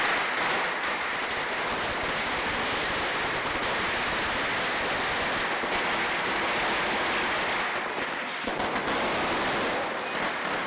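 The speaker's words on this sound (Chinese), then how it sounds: "爆竹一声迎新岁" Strings of firecrackers set off for Lunar New Year in a Hong Kong walled village crackle in a loud, dense, continuous rattle of rapid bangs that barely let up.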